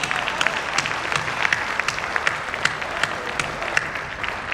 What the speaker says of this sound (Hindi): तमाम लोग एक बार दोनों हाथ उठाकर ऐसी घनघोर तालियां